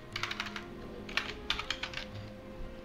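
Quick bursts of typing on a computer keyboard, light keys clattering in small clusters over a steady low room hum, with no voices.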